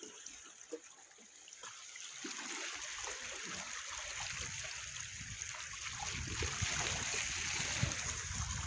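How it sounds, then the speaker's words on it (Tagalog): Hot water bubbling and churning among rocks at a volcanic spring, a continuous close, moderately loud gurgling and trickling wash that swells slightly toward the end, with no voices. "kumukulo yung tubig dito lang sa may mabato"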